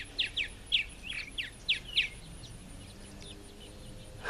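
Small birds perched on a line outside a house give a quick series of sharp, high chirps, about eight in two seconds, then fall quiet against a faint outdoor hiss.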